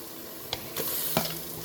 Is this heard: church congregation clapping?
no